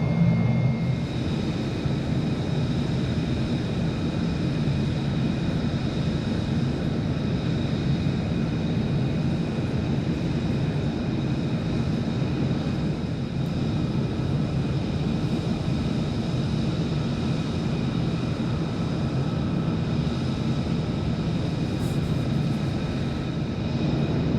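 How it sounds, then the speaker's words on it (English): F-35 Lightning jet taxiing toward the runway in Microsoft Flight Simulator, a steady, continuous engine whine and rumble with no pauses. "I'll taxi on over to the end of the runway"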